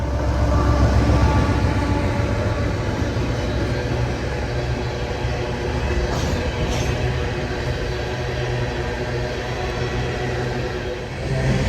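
A heavy coal train hauled by locomotives rumbles past in the Chattanooga, Tennessee area, a continuous low roar of rolling railcars with steady wheel noise and a faint high whine, holding level before easing off at the very end.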